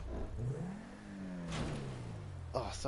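A car engine in GTA Online revs up with a rising, whining pitch and then settles, heard at moderate loudness with a voice talking over it.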